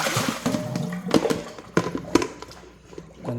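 Water runs and splashes in a kitchen sink as a skillet is rinsed, with uneven surges and a few sharp clanks of the pan against the basin, fairly close and without talk.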